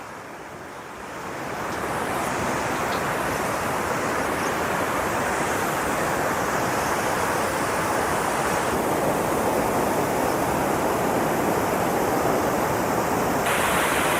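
Heavy water rushing down at a dam in Valparai, a steady loud broadband roar that swells in over the first two seconds and then holds constant without a break.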